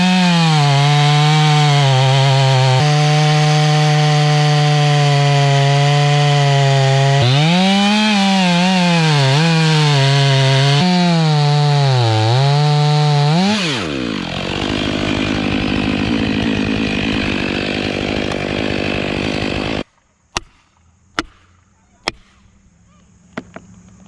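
A chainsaw cutting down a massive tree screams loudly and steadily, its pitch dipping and rising as the chain bogs and recovers in the wood. It then drops to a rough idle and cuts out, and a few sharp knocks follow.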